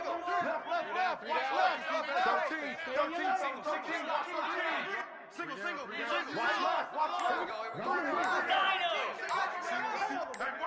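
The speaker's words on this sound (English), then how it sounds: "the crowd coming to life here, trying to help this defense down in the red zone" Football stadium crowd roaring to back the defense in the red zone, a dense, sustained wall of cheering and shouting with rising bursts of noise throughout.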